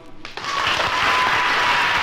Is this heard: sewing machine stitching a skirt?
no